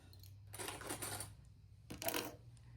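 Small plastic sewing clips are picked up off a work surface, two bursts of light clicking and clattering with a quiet pause between, close and soft.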